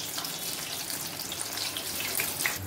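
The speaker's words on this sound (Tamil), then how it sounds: "இந்த மாதிரி நல்லா எண்ணெய் சூடானதுக்கு அப்புறம் இத போட்டு பொரிக்கணும்" Corn frying in hot oil for a masala fry, a continuous crackling sizzle with scattered bright pops that grows slightly busier toward the end, with no voices over it.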